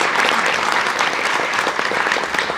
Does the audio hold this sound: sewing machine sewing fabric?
no